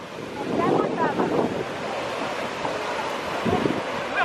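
Ocean waves surging onto a beach in Ghana where fishermen work their nets, a rushing wash that swells and recedes under buffeting wind on the microphone, with faint voices mixed in.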